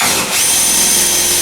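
A power drill bores holes in a stringer bracket, giving a loud, close, steady high whine with a brief dip in pitch near the start.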